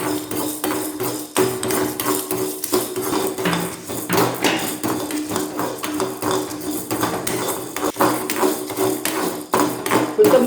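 Urad dal dry-roasting in a pan without oil, with a dense, steady run of close scraping, rattling and tapping from stirring that continues unbroken throughout.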